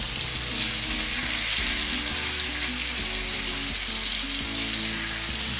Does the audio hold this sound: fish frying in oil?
yes